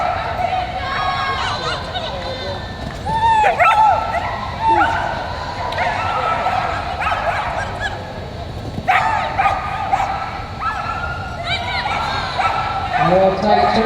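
A Border Collie gives several sharp, spaced barks and yips during an agility run in a ring at an open competition. The barks ring out over a commentator's voice and arena noise.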